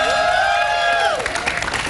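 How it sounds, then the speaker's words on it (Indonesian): Studio audience applause on a quiz show swells in after a sustained musical sting fades, a dense wash of clapping and light cheering filling the second half of the clip. "Tepuk tangan teman-teman"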